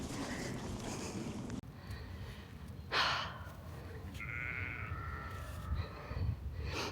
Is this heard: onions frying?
no